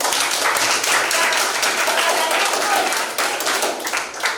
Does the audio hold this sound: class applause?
yes